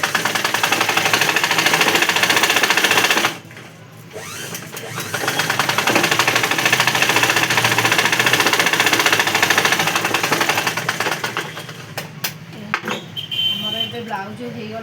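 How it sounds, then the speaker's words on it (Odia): A sewing machine stitches a blouse in a tailoring shop in Cuttack, running in a loud, fast mechanical clatter. It pauses briefly near the start, then runs on steadily, easing off toward the end. "ଦୁଇଟା ସିଲେଇ ପକେଇବ।"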